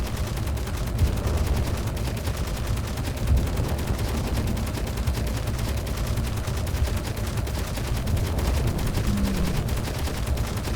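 Continuous automatic gunfire from the Space Engineers video game rattles loudly and without pause, a dense, rapid stream of shots running the whole time.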